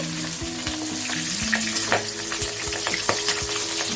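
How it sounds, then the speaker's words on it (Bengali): A fish head frying in hot oil in a pan, a loud sizzle with repeated sharp crackles and pops spread across the whole stretch, no voices. "মাছের মাথাটা ভালো করে ভেজে নিলে দেখছেন কেমন ফাটছে।"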